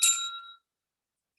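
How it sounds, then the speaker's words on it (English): A small desk bell rung by the counter at a Toastmasters meeting, a single bright ding that rings out and decays over half a second, followed by the start of another strike. "I will be ringing my bell"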